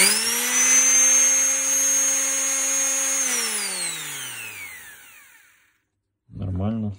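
A power tool with a checked bearing runs at idle with a loud, steady whine close by, then winds down in falling pitch to silence before someone briefly speaks at the end.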